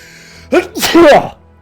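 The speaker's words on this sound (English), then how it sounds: "I have to sneeze." A single person sneezes close to the microphone, a sharp sudden burst with a voiced, gasping lead-in, loud and brief, with faint background music underneath.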